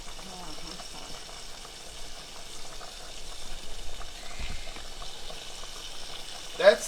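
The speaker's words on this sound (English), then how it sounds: "That's the livers, deep frying." Chicken livers deep frying in oil alongside pots of green beans and potatoes, a steady soft bubbling sizzle in a home kitchen, fairly faint, with a short clatter near the end.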